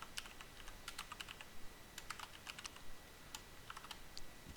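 Code being typed on a computer keyboard: quick, uneven clusters of crisp key clicks, close and fairly quiet, with no talk.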